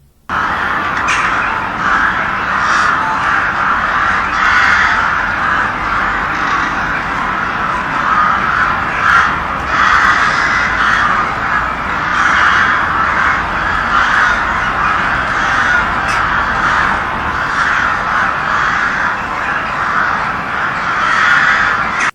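A dense chorus of birds calls from a tree, with crows cawing repeatedly over a constant layer of chattering and squawking, loud and unbroken for the whole stretch.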